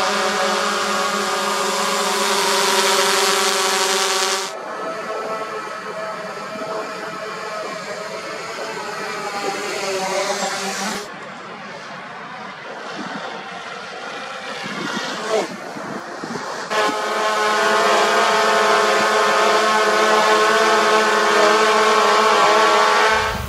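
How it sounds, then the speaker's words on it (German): Small quadcopter drone's motors spinning up and running, a steady high whine with strong harmonic bands that shifts pitch several times, loud and close throughout. "Wie man sieht, die Motoren setzen sich in Bewegung."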